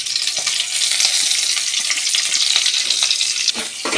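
Whole spices such as cloves, cumin, cardamom and curry leaves fry in hot oil in a pan, making a loud, dense, continuous sizzle with a few faint stirring knocks, close up and without any voices.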